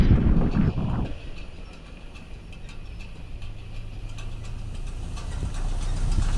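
Ford Ranger pickup towing a hay rake across a former lawn, a steady low engine drone with rattling, ticking implement noise that stays fairly even throughout.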